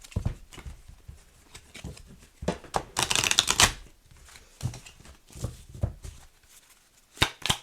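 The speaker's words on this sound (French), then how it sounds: "On va prendre 3 cartes." Oracle cards being shuffled and drawn, with soft papery riffles and taps in uneven bursts and a louder flurry of shuffling midway, close by with no speech.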